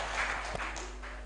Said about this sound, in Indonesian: Tepuk tangan dulu, itu luar biasa.